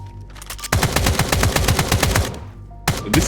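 Automatic fire from a hipfired assault rifle in the game Escape from Duckov: a sustained, loud burst of rapid, evenly spaced shots lasting about two seconds, followed by a short pause and a second, briefer burst.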